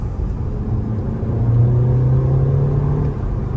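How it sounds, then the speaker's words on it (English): A turbocharged 2016 VW Golf R with a 6-speed manual drones steadily from inside the cabin, with a rising whine as it accelerates under a constant low rumble. "Turbo's quite loud, which is fun."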